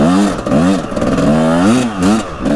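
A Kawasaki KX 250 motocross bike rides a soft sand track, its engine revving up and down in repeated surges, loud and close with no talk.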